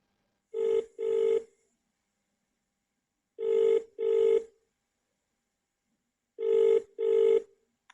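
A telephone rings for an incoming call in the classic double-ring pattern, three pairs of loud, close trilling bursts separated by silence.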